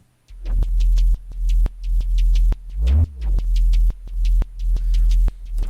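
Repeated pulsing drum and bass synth notes with a wide, shimmering chorus effect, a regular throbbing rhythm and one pitch-bending swoop in the middle.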